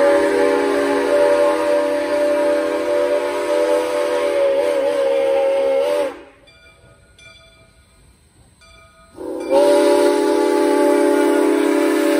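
A loud, sustained steam whistle blares from the steam locomotive SOO Line 1003, holding a steady tone, falling silent for a few seconds, then sounding again just as strongly.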